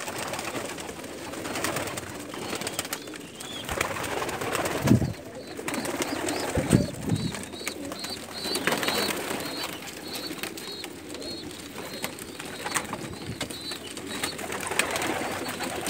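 Pigeons in Umluj, Saudi Arabia, give repeated low cooing calls over a steady ambient murmur, with a couple of louder thumps and flutters partway through.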